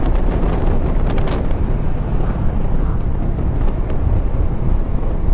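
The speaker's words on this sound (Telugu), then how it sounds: "విండ్ చాలా హెవీగా ఉందబ్బా." Strong wind roars and buffets continuously against a moving Yamaha R15 M motorcycle on the road, a loud, rumbling rush with no pauses.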